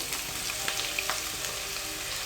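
Chopped onions fry in hot oil with cumin seeds and a bay leaf, giving a steady close sizzle with small crackles and pops throughout.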